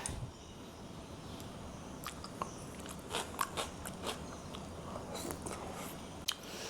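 Someone bites into and chews a shrimp and vegetable stir fry, giving soft, close crunches and wet squishy chewing sounds at a quiet level over a faint background hiss.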